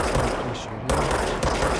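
Bursts of gunfire from enemy weapons in the video game Control crackle through a dense, loud mix, with a brief lull in the middle before the shooting resumes.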